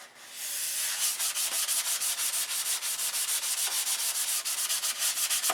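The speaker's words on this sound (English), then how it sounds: "I'm going to finish sanding this up tonight" A control line P-51B model airplane is sanded by hand in quick, even back-and-forth strokes, a close, steady rasping rhythm that runs without pause.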